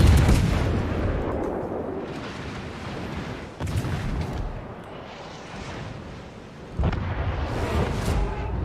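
Naval gunfire from warships in World of Warships, a cruiser like the Pensacola near an island: a dense, continuous barrage of heavy booms with sharp louder salvos around four and seven seconds, steady and rumbling without talk.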